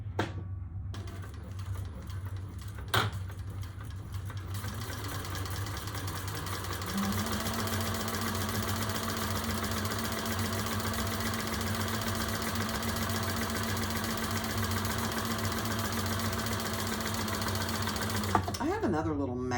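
Sewing machine running steadily while top stitching a bag, a continuous mechanical whir that picks up pace partway through, with people talking over it.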